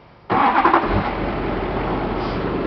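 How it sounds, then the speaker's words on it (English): A Duramax diesel truck with its MAP sensor plugged in cranks and fires, then settles into a steady, loud, rough idle close to the microphone. "And we'll start the truck up now."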